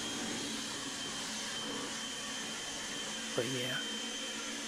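A battery-powered leaf blower runs continuously, a steady loud whooshing roar while blowing out debris, with a brief spoken phrase over it.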